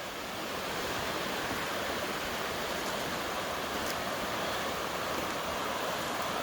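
An overfull creek rushes past at full flood, a steady, dense roar of churning water holding at an even loudness throughout with no pauses.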